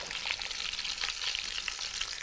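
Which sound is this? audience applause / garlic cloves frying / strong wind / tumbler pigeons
garlic cloves frying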